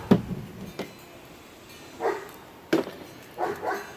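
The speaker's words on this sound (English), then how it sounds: "And I just got the neighbor's dog's attention." A neighbor's dog barks outdoors at some distance, several sharp separate barks spaced a second or more apart, with quiet pauses between them and no talk.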